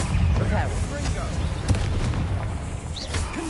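A Confringo blasting spell explodes during combat in Hogwarts Legacy, giving a dense, sustained rumble of booms and bursts with other spell effects layered over it under steady game noise.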